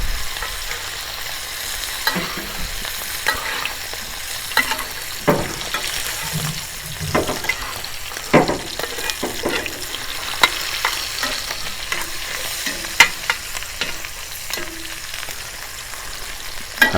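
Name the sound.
ribeye steak sizzling in cast iron pan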